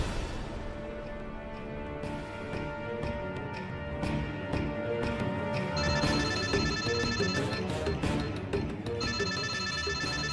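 A telephone ringtone for an incoming early-morning call from a boss's mother sounds as a steady, repeating electronic melody over background music, fairly loud and continuous, with no talking.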